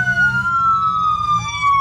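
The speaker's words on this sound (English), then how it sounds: "I figured out how to do the siren consistently." A police car siren in a video game wails loudly and close, its tone sweeping up and holding with a brief dip, over a low engine rumble.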